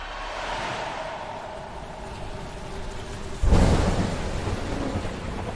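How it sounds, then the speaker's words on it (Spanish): Steady rain falls in a morning storm over Genoa on 14 August, a continuous hiss, until a sudden deep thunderclap breaks in and rumbles on beneath the downpour. "Génova se despierta empapada de lluvia y con mal tiempo"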